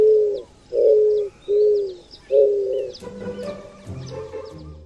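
A male eared dove gives its cooing song: four loud, drawn-out coos in steady rhythm, followed by softer mixed bird calls and background rustle.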